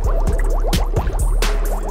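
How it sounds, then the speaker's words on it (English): A compost tea bag is wrung out by hand, squeezing out its water in steady wet splashing and dripping with squishy pulses, close and fairly loud throughout. "Squeeze out your tea bag. Get all that extra water."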